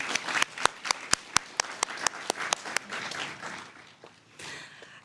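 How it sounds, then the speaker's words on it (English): Crowd applause at a university graduation ceremony in Griffin, Georgia. Several sharp, loud claps stand out near the front over a steady patter of many hands, then taper off. "Please join me in giving Sudeep another round of applause"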